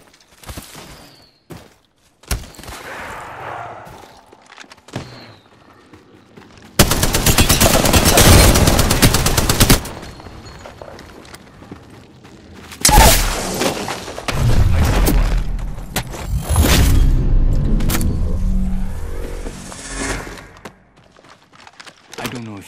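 Gunfire in a video game shootout: bursts of rapid automatic fire and single shots with booms, sustained volleys alternating with brief pauses, with occasional talk in between.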